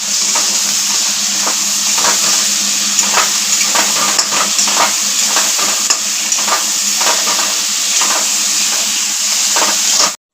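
A ginger, green chili and cumin paste fries in hot oil for a Bengali hilsa curry, giving a loud, continuous sizzle broken by repeated scraping strokes of a spatula.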